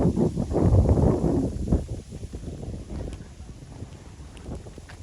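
Low rumbling wind buffets the microphone in a cumin field, strongest in the first two seconds, then easing to a softer steady gust with faint rustling.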